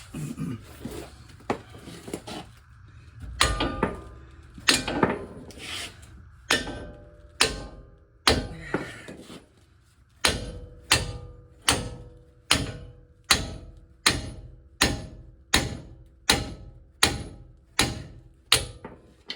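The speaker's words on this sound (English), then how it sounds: "let's whack it right here" A hammer strikes a Dodge Ram's control arm and CV axle: about a dozen irregular heavy metallic whacks at first, then a steady run of regularly spaced loud clanging blows, close and alone with no talk.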